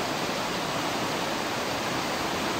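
A river current flows steadily, a broad, continuous rush of moving water that stays even and fairly loud throughout with no voices.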